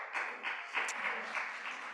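A congregation at a worship service applauds, a faint, steady patter of many hands clapping at a distance, with no voices over it.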